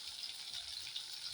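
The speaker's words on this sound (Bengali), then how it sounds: "মাছের তেলটা এবার আমি কড়াইয়ের মধ্যে দিলাম।" Fish oil, rendered from fish fat, sizzling steadily in a hot kadai, a continuous bright hiss with faint crackles running evenly throughout, close and moderately quiet with no voices.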